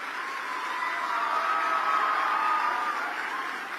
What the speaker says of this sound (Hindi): जरा जोर से ताली बजाए भाई।